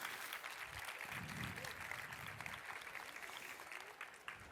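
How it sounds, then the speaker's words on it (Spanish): Audience at a festival talk breaking into sustained applause, a dense wash of clapping from a crowd that continues evenly for several seconds. "darles un grandísimo aplauso y muchísimas felicidades"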